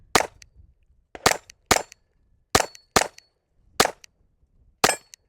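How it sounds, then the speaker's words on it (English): A Glock 44 .22LR pistol fires at steel plates outdoors, giving seven sharp, loud reports spaced irregularly over a few seconds, each with a brief ringing tail and no talking. "Let me shoot these plates."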